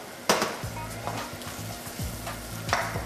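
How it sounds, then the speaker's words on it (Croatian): Basil, thyme and parsley sizzle and fry in a hot pan while being stirred, with a steady crackle broken by a few sharper scrapes and clinks of the spoon close by. "Sad ćemo to ponovo malo prodinstati da oni puste aromu."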